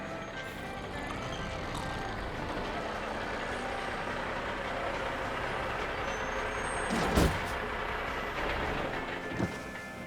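A large animated truck pulling to a stop, with a sharp air-brake hiss standing out over steady engine rumble and road noise near the middle and again near the end.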